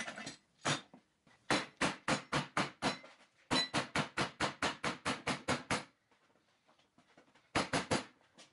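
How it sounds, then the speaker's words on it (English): Metal clamped to a workbench is hammered into a 90-degree angle for hairpin legs. Sharp, ringing hammer blows land in rapid, steady runs, separated by brief pauses. "Then I would clamp it down to the bench and hammer it into a 90 degree angle."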